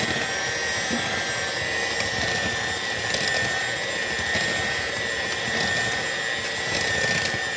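Electric mixer whirring continuously while beating pineapple upside-down cake batter in a bowl, a loud steady motor drone with no pauses.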